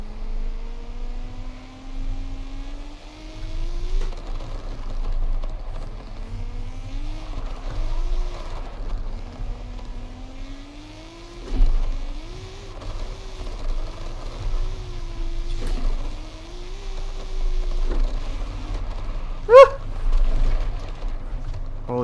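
Car engine revving in the video game Forza Horizon 5, a faint wavering drone that climbs and falls through repeated revs, with a low rumble underneath and a brief sharp spike near the end.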